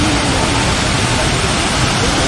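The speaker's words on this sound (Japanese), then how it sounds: "そして一番でかい滝がこれですね、おそらく。" A large waterfall at Luang Prabang, Laos roars as a loud, continuous broadband rush of falling water, steady and close throughout.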